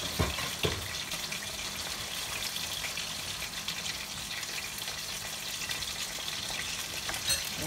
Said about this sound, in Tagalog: haluin uli natin yung ating gulay